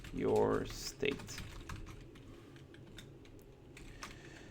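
Rapid clicking on a computer keyboard while code is typed, a quiet, close patter of keystrokes that starts after a short vocal sound and continues steadily.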